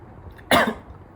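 One sharp, abrupt cough from strong vinegar, close and clear against a quiet background.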